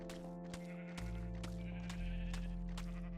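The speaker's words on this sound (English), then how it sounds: "we need to feed the sheeps" Sheep bleat repeatedly in a Minecraft game, several short calls spaced through the moment over a steady background of game sound and music tones.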